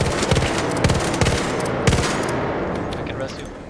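Gunfire in the video game ARC Raiders crackles in several quick bursts of shots, fairly close, with a player's voice talking over part of it before it thins out toward the end.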